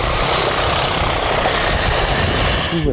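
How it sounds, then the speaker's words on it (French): A helicopter drones in the background with a steady, unbroken rotor-and-engine roar that holds at an even, fairly loud level throughout, with no voices over it. "il y a l'hélico en arrière-plan"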